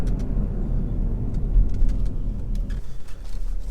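A Porsche Macan S accelerates toward a corner, its engine a loud, low in-cabin rumble that swells and then eases, with light road and tyre noise and no talk.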